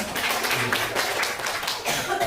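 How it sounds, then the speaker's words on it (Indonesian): A roomful of people claps steadily for a few seconds, a dense patter with some faint chuckling and a cough mixed in. "Saya ingin tepuk tangan untuk Bapak Ibu sekalian"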